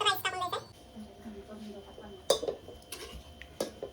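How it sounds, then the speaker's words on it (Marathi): A flat griddle and then a rice pot are set down on a gas stove while cooking chicken dum biryani, giving a few sharp metallic clanks and knocks spaced over several seconds, with a voice faintly present in the background. "गॅसवर आपण आधी तवा ठेवून घेऊ, त्यानंतरनं हा राईसचा टोप ठेवूया"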